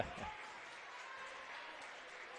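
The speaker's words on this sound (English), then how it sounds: "Larson gets an appropriate applause" A high school basketball crowd at a boys 3A third-place game applauds a player checking in, a faint, distant, steady patter of clapping across the gym.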